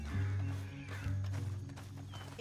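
Horse hooves with a short neigh in the Red Dead Redemption video game, a brief, fairly close burst of hoof and horse sounds, with a trace of game voices around it.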